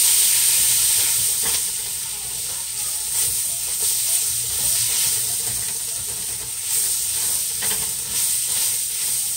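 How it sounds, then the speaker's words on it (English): Washed mushrooms frying in a pot for zucchini curry give a steady, loud hiss and sizzle that runs throughout, with faint crackles and stirring. "Let me just wash some mushrooms and add them right quick before this thing start burn."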